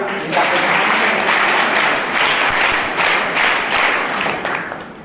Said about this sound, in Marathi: आदरणीय सोनल टीचर यांच्यासाठी टाळ्या वाजवूया.